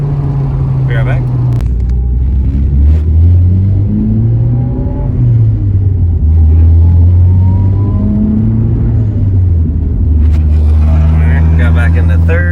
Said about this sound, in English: Got back into third and just cruising, tipping into boost a little bit.